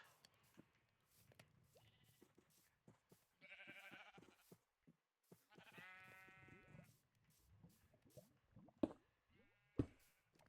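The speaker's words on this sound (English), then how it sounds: "now I got a flock of sheep" Several video game sheep bleat in short, wavering calls, interspersed with clicks, taps and soft plopping sounds.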